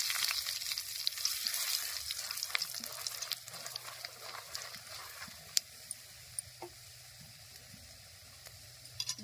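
Half a teaspoon of black cumin and seven halved dried red chillies sizzle in hot oil in a home kitchen, a quiet continuous hiss dotted with small sharp crackles and pops, with no voices.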